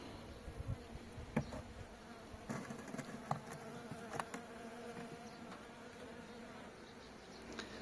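A honey bee swarm, a strong late-season colony, buzzes steadily and densely during a hive transfer while frames are lifted out and shaken, with a few soft knocks and clicks over the hum.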